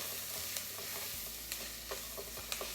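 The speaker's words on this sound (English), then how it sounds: "I'm going to mix this up" A flour mixture for French onion soup being stirred in a hot pan, a low sizzle under repeated scraping strokes of a utensil, close up with no voices.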